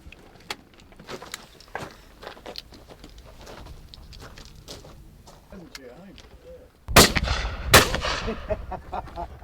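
Shotgun shots from a Browning high rib Pro Trap gun at clay targets simulating driven grouse: two loud close blasts in quick succession follow a stretch of quieter outdoor rustling and scattered clicks.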